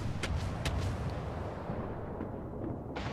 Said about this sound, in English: Doing fantastic volley fire against Leander.